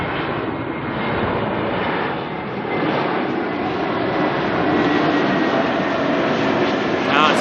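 An Air New Zealand A321neo, NZ102 from Sydney, arrives at Auckland Airport with a sustained broadband jet engine roar that holds steady and swells slightly toward the end.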